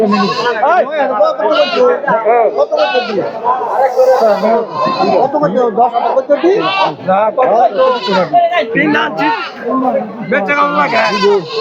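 Goats bleat at a crowded livestock market on a rainy day, their cries mixed into continuous loud chatter and bargaining voices of many people nearby.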